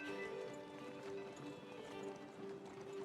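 Horses plod along steadily in a fantasy adventure setting, their hooves clip-clopping in an even rhythm beneath a continuous hum of background music and ambience.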